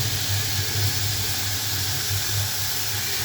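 Chicken pieces sizzling in an oiled pan over a medium-low flame, a steady, dense hiss running continuously at moderate loudness with a faint low hum beneath, no voices.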